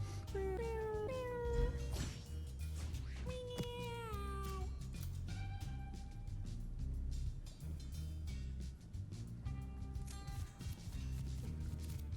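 Cats in the tactics game Mewgenics meow repeatedly, with drawn-out, pitch-sliding cries over a steady low musical background, several calls clustered early and more scattered later.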